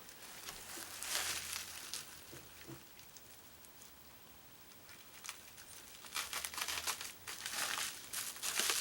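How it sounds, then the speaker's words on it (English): Razor knife slicing through tape on a well-padded, heavily taped mail package, giving bursts of crinkling and tearing, close and moderately loud, alternating with quieter pauses. "Looks like we need the razor knife again."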